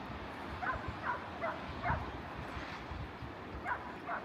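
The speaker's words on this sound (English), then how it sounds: "Where's that dog barking?" A dog barks several times at a distance, faint and irregularly spaced, echoing off rocks at a Cornish cove, over a steady outdoor background hiss.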